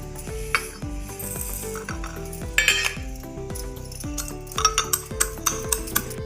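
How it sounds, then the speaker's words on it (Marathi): Fennel and coriander seeds pounded in a mortar and pestle, heard as a close series of repeated thuds and ringing metallic clinks in a steady rhythm, growing sharper toward the end, with no talk. "बडीशेप आणि धने मी खलबत्त्यात कुटून घेते"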